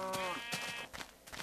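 A Minecraft sheep gives a clear, tonal bleat up close, a single wavering cry that fades out, followed by a few soft clicks and scuffs of game sounds.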